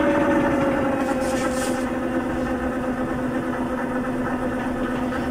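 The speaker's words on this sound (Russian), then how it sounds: "вибропод это как раз и есть площадка, которая трясется" A vibrating platform used for shoulder rehabilitation shakes steadily, producing a constant, loud, engine-like hum with a buzzing rattle that holds even throughout.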